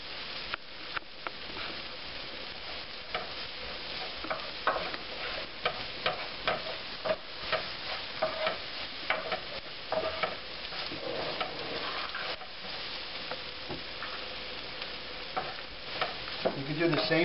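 Poultry gravy mix stirred into caramelizing onions in a frying pan, a steady soft sizzle with scraping spoon strokes and small clinks throughout, close and moderately loud with no talking.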